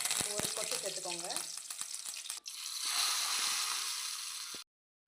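Mustard seeds and lentils splutter and crackle in hot oil while tempering a mint chutney, a dense, steady sizzle with sharp pops throughout that swells midway and then cuts off abruptly near the end.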